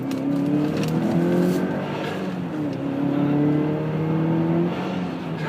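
A 2005 Subaru Legacy turbo drives on snow and accelerates hard in second gear. The engine pitch climbs in steady sweeps, loud and close, rising again after a brief dip, with no talking.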